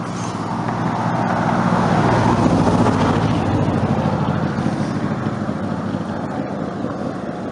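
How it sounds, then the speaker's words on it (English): A truck rumbles steadily past, a loud continuous engine roar with wind buffeting the microphone throughout. "Truck's kind of noisy"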